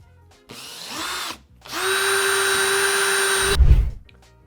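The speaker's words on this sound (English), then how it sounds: "That's 4 holes now drilled in the boot lid from the top side." A power drill bores 7mm holes through the boot lid of a BMW M4 F82: a short whining burst, a pause, then a longer steady drilling run that ends with a dull knock.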